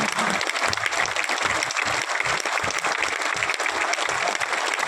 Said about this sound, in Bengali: সবার জোরে তালি যতক্ষণ মেডেল পড়ানো হচ্ছে